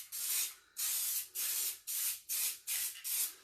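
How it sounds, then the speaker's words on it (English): An aerosol can sprays paint onto metal hardware in six short, evenly spaced hissing bursts of about half a second each, close and clear with brief pauses between them. "So these are our 2 layers of spray paint"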